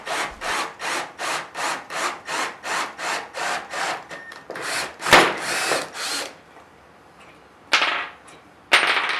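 A power drill bores holes through a wooden worktop in a quick series of rhythmic bursts, then pauses before two more short, loud bursts near the end.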